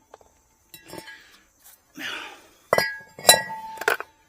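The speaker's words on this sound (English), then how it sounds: "Just hit it with a hammer on the back side a few times." Several sharp metallic clanks from a hammer striking the back of a Toyota 4Runner rear brake rotor, spaced irregularly, with a ringing tone after the louder hits.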